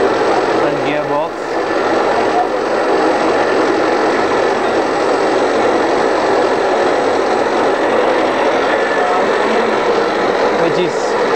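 Gear motor and gearbox of a paint brush tipping and flagging machine running steadily, a continuous mechanical hum and whir with a faint rattle, loud and close throughout.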